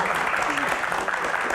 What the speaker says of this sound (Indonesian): bolehkah minta tepuk tangannya untuk yang belum menikah?